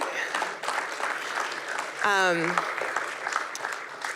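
A live audience claps in a short burst of steady applause during a talk-show style conversation, with a voice rising briefly above the clapping partway through.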